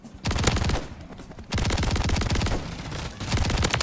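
Rapid automatic gunfire in Call of Duty: Modern Warfare III during a Shipment 1v1 match, loud dense bursts of shots with brief pauses between volleys, close and continuous.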